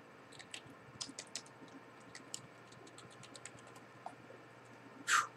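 A password being typed on a computer keyboard: quick, irregular key clicks at close range, quiet and without talk, ending in one louder tap.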